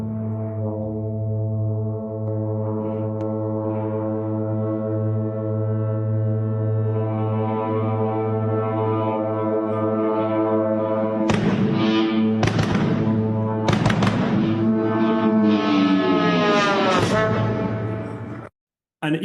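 An orchestra imitates a Shahed (Geran) drone raid: a sustained, buzzing low harmonic drone holds for about ten seconds, then sharp percussive blasts and rising, swooping tones break in repeatedly before it cuts off.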